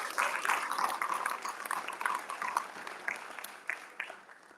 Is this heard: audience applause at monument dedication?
yes